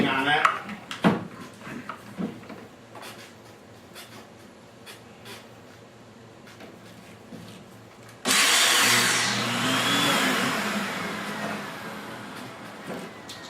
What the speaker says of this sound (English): I'm going to take this longer piece and I'm going to do some